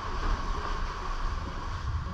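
Steady wash of water and low rumbling hull noise from an aluminium sailboat underway, constant and fairly quiet with no voices.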